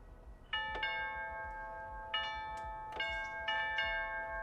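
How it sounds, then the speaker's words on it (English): Old original doorbell chimes in a house ring out in a series of clear, resonant metallic tones, several struck notes spaced apart, each ringing and decaying in a quiet room. "the actual old original doorbell chimes"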